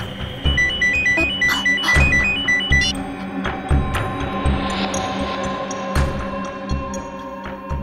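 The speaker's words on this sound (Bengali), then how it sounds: "ওই লোকটা ফোন করেছে।" A phone rings with an incoming call, a repeating electronic ringtone melody heard over music and soft thumps in a drama scene.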